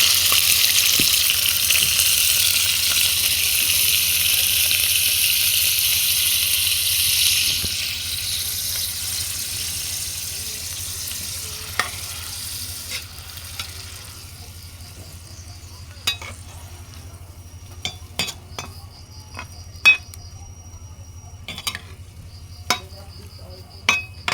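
Squid frying in a pan of hot oil at home makes a loud, bright sizzle that gradually dies down to a quieter hiss, punctuated later by scattered clinks of a utensil against the pan.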